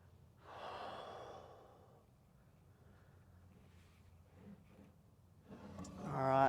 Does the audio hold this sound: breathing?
yes